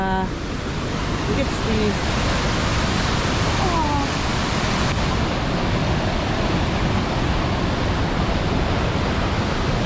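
Rushing water of the North Fork of the Stanislaus River, fed heavily by outflow from Relief Reservoir, makes a loud, steady broadband roar throughout, with faint bird chirps briefly audible above it.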